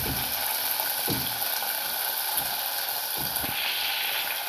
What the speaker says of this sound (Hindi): हम टमाटर डालेंगे, अच्छे से सभी को फ्राई करेंगे